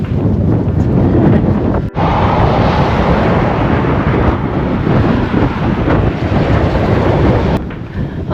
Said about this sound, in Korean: 언제쯤 바람이 잦아들까요?